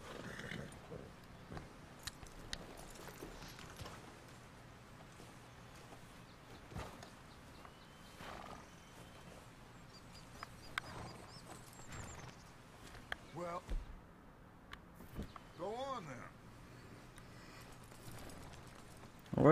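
A horse in Red Dead Redemption 2, hooves clip-clopping at a walk with a soft whinny, heard under steady talking and light outdoor ambience.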